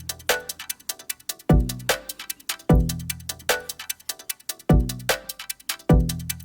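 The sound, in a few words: drum loop through MIDI-triggered resonator EQ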